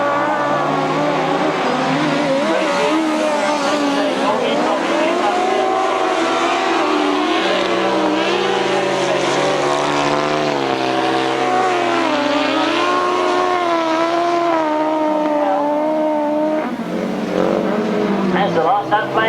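Grasstrack racing sidecar outfits roar past at a 1992 British Masters qualifier, their engines droning loudly and continuously with shifting pitch as they pass. A commentator talks over the racket the whole time.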